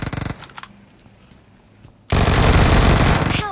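Video game shooter gunfire, a quick burst of rapid shots, a quiet gap, then a loud continuous stream of automatic fire lasting over a second, close and dense, with no talk.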